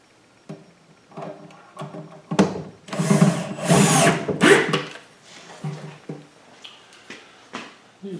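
A power drill whirs in a few short bursts during woodworking repairs, the loudest run in the middle, with clunks and handling noises between.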